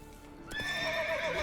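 Roach, the horse from The Witcher 3, gives a rising, drawn-out whinny. Hoofbeats from a gallop sound close and clear beneath it.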